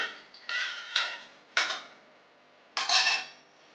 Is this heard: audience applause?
no